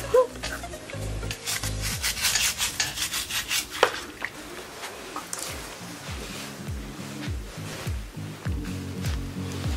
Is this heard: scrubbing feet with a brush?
yes